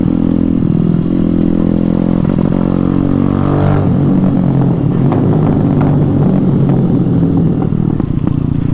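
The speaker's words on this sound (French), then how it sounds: "On va essayer de faire péter les pots." A Honda MSX fitted with a swapped Zongshen 212cc engine, idling with a steady low drone before the throttle is blipped and the exhaust crackles and pops in irregular bursts, close and loud.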